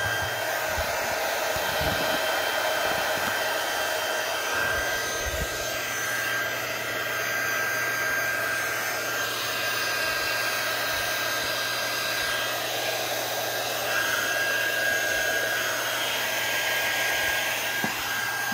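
Diamond Press embossing machine running while making spring cards, a steady loud motorized whir with a constant hum, continuous and unbroken throughout.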